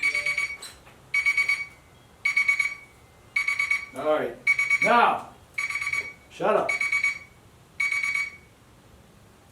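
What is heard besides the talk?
kitchen timer alarm ringing during a beer brewing boil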